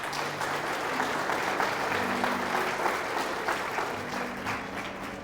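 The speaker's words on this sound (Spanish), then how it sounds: "Aplauda al Señor." A church congregation claps steadily and continuously, the applause a dense, even wash of many hands at moderate volume, with faint voices mixed in.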